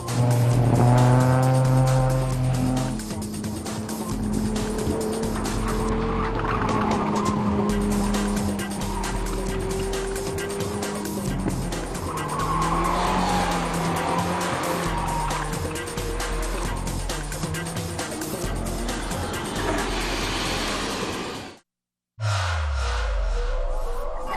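Sports cars on near-slick Hoosier DOT performance tires circle a 200-foot skid pad at a 2003 street car competition, with loud, sustained tire squeal and steady engine drone that waver in pitch throughout.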